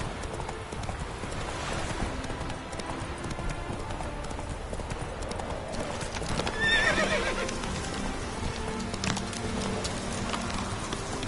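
Geralt's horse Roach gallops with steady rapid hoof clip-clops in The Witcher 3, then lets out a loud, close neigh midway through, all over a busy game background.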